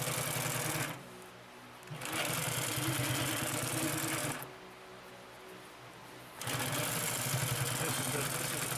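A Consew P2339 double needle walking foot sewing machine stitches over thick seams in a double layer of material, running in loud, steady mechanical bursts separated by two short pauses.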